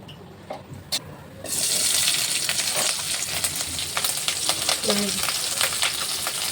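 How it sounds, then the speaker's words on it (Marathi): Green chillies frying in a couple of spoons of oil for thin poha chivda, a sudden sizzle starting after quiet clatter, then a steady crackle with small clinks. "मी 2 चमचे तेल टाकते, कारण का मिरच्या चांगल्या तळून निघायच्या, चांगल्या खरपूस भाजायचे"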